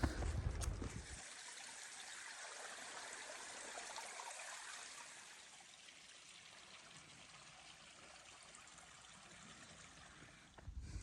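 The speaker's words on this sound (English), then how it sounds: "Every one of these little valleys we walk by, you just hear water running." Water runs through a small valley stream beside the Appalachian Trail, a soft steady trickle and babble heard at a distance, continuous and gentle without voices.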